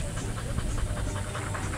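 Pitbull dogs pant on an outdoor walk through the countryside, a fast, steady, close breathy rhythm over a rough wind-like background, with no talking.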